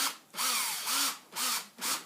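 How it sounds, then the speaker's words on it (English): A power drill spins in repeated bursts to strip a flexible, fairly thick wire on a homemade heavy-duty stripping rig, its whine rising and falling four times with brief pauses between runs, close and loud. "I can put the power drill on here and feed it like that"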